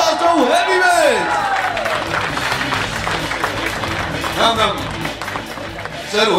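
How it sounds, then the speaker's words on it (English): Audience applause at the Colgate Face Off event, a steady wash of clapping with whoops and cheers from the crowd, loud and sustained, while voices shout and talk over it throughout. "let's give a big round of applause to Heavyweight."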